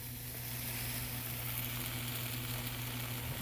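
A grilled cheese sandwich sizzles steadily in a hot pan just after being flipped, a constant close frying hiss with a low hum underneath and no talking.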